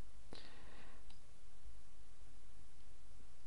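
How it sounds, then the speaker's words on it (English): Computer mouse clicking, one sharp close click followed by a second fainter one a moment later, over a quiet steady room hiss. "so click on Check PR."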